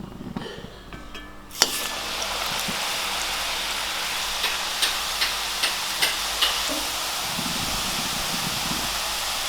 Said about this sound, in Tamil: ஸோ அப்படியே திருப்பி திருப்பி போட்டு நல்லா பொரிஞ்சு வர்ற அளவுக்கு பொரிய விட்டுருங்க.